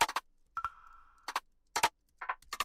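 A rim shot drum sample auditioned in a production room: sharp, dry, short clicky hits in an irregular pattern, with one hit followed by a sustained ringing tone that hangs briefly before silence.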